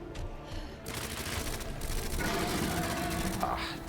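Grenade launcher fire aimed at a boss in Resident Evil 2 (2019), a steady, dense barrage of loud shots and mechanical clatter running continuously over game noise.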